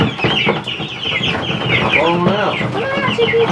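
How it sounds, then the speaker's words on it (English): More than fifty chickens being let out of totes cluck and squawk continuously in a dense, close chorus, with a few louder calls standing out and a voice murmuring briefly among them. "we're gonna fill the feeder up and start getting these chickens out"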